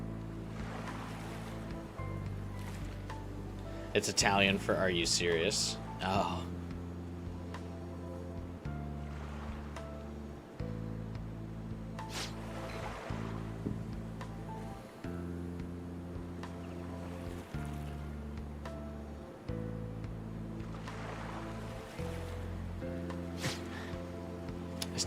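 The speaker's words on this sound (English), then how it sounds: "I like that they quieted the music so you could hear the waves." Ocean waves washing onto a beach in the video game Persona 5: The Phantom X, a steady surf wash beneath quieted looping music, with brief speech and an exclamation partway through.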